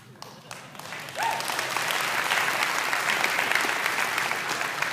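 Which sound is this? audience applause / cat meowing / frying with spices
audience applause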